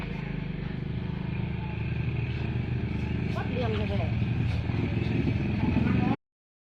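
A vehicle engine runs steadily as it pulls up at a site where a coconut tree is being cut down. The hum is continuous and fairly close, with several people talking over it throughout.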